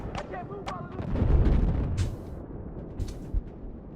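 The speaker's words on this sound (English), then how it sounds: "let's still throw the grenade over there" A thrown grenade explodes in an online Battlefield 4 match, a deep rumbling boom that swells in the middle of the clip amid sharp gunfire cracks and busy game noise.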